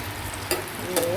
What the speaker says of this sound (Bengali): এবার এপিট ওপিট করে এটাকে ভেজে নিলে।